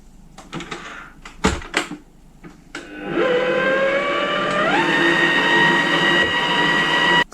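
An electric hand mixer whips cream for a Napoleon cake, starting after a few soft clinks and taps. It then whines steadily and loud at close range, and its pitch rises as the speed increases, with no talk.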